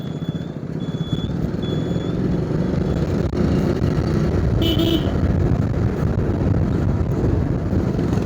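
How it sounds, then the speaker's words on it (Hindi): Evening road traffic in Kolhapur, India, a loud continuous engine rumble with several short, high car horn toots sounding at intervals early on and another honk midway. "ट्रैफिक है, पांडू ट्रैफिक है ना भाई"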